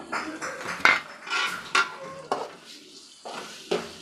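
Beaten eggs are poured into frying masala with green chillies and stirred, producing close, irregular spoon scrapes and clinks against the pan over a light sizzle, with a pause near three seconds before the stirring resumes.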